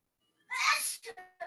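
A child sneezes once up close, a sharp burst followed by a couple of brief voiced breaths.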